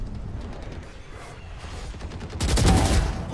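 Gunfire in Valorant, a burst of rapid shots following quieter crackling, loud and close, with no talk during the shooting.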